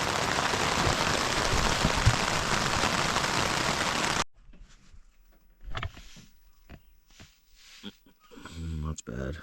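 Steady rain falls at night on a wild camp, a dense close hiss of drops drumming on a surface that stops abruptly partway through, followed by quiet rustling and someone talking.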